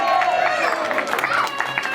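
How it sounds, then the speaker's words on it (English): Holiday-park crowd breaks into applause, a busy wash of clapping mixed with cheering and chatter, moderately close and steady throughout. "I'd like to hear the applause now."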